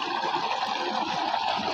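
Mountain spring river water running through a village stream, a steady close rushing and trickling flow with no breaks, no voices over it.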